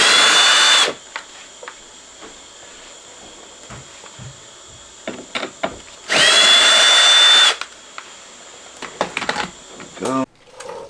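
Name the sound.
power drill removing Phillips head screws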